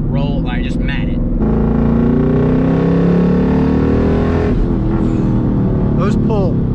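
A boosted Ford Mustang GT rolls on in third gear via the paddles and then goes to full throttle, its exhaust rising in a loud, sustained pull with a harmonic engine drone close by, briefly shifting pitch.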